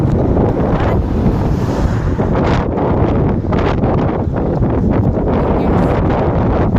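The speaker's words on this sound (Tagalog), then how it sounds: "Super lakas ng hangin." Strong wind buffets the microphone in a loud, continuous roar, with a faint wash of surf or water beneath it.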